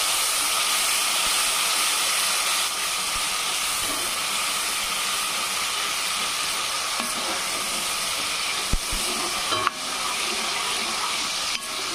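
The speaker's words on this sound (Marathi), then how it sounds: "छानपैकी असं फ्राय होऊ द्यायचं।" A paste of ginger, coriander, garlic and tomato frying in a pan for chicken gravy, giving a steady, loud, broadband sizzle that holds evenly throughout with a few faint clicks and no talking.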